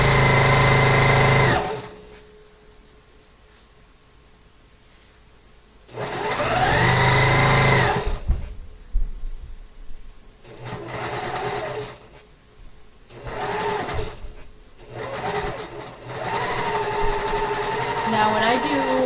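Sewing machine stitching and backstitching quilt borders, loud bursts of motor whir starting and stopping in several runs, with a person talking between them.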